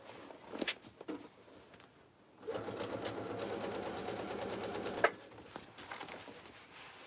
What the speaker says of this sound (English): So I'm just going to re-sew a couple here and hold this better into place.